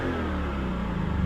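The V8 of a 2025 Lexus RC F Final Edition drones in a steady, deep roar heard from inside the cabin while cruising on a highway, a brief continuous rumble without speech.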